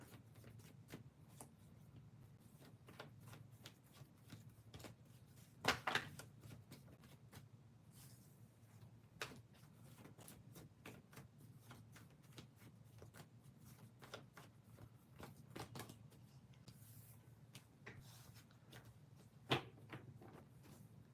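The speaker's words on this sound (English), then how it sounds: "Give me one moment to shuffle the cards." Soft, faint rustling of tarot cards being shuffled, with a steady papery patter and a couple of sharper riffles, in an otherwise quiet room.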